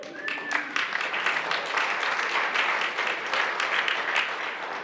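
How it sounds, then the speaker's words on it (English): An audience breaks into applause during a church sermon, a sustained wash of many hands clapping at moderate distance that holds steady for several seconds. "You applaud that."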